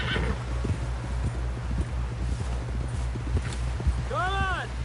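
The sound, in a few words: horse galloping in video game Red Dead Redemption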